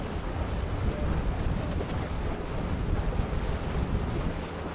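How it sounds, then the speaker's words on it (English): Brisk southeast wind blowing across a rowing course during a women's coxed four race, heard as a continuous loud rumbling roar of wind buffeting the microphone with no voices. "A brisk wind from actually across the course from the southeast"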